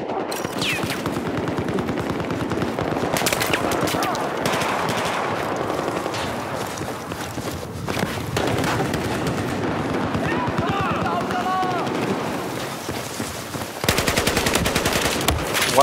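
Rapid automatic gunfire bursts from Battlefield 4 on the Flood Zone map, dense and continuous across the whole stretch, with a louder volley near the end, under and between a player's talk.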